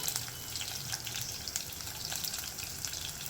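Mustard seeds, crushed garlic, curry leaves and dry chillies hit hot oil for a tempering, giving a steady bright sizzle and crackle with scattered pops that run close and unbroken.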